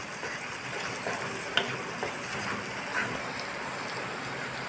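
Chopped tomato with salt is stirred in a cooking pan for a prawn and potato curry, giving a steady soft sizzling hiss with faint scrapes of the spoon, close and unbroken.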